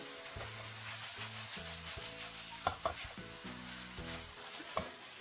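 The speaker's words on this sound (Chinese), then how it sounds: "再快速的翻炒几下，把调料炒匀就可以关火出锅了" Garlic sprouts and shredded pork are stir-fried in a wok: a constant sizzle under rhythmic scraping of the spatula, with a few sharp clanks against the metal.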